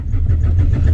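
A Honda Civic engine with a rod knock runs hard and loud, a dense low rumble holding steady throughout with no speech over it.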